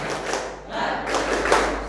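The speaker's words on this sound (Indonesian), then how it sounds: "Tepuk semangat." A group of people doing a spirit clap, a few quick bursts of close, loud clapping in an irregular rhythm, with children's voices mixed in.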